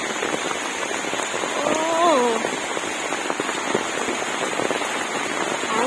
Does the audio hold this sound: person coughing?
no